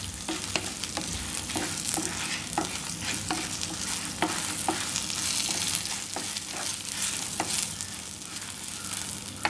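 Chopped onions sauté in a hot pan for a Tamil yam curry, a constant close sizzle broken by regular sharp scrapes and clicks of stirring, with no talk over it.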